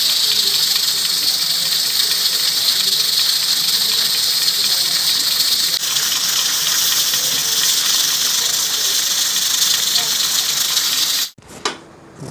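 Steady loud hiss of steam from mutton karahi cooking in a covered pot over high heat on a stove, continuous and unbroken for several seconds before cutting off with a brief clatter near the end.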